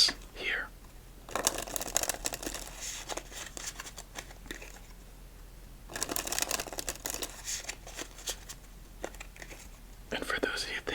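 A Sakura-themed deck of playing cards is shuffled between solitaire games in soft, close bursts of papery riffling and tapping, separated by quieter pauses, with whispered speech in between.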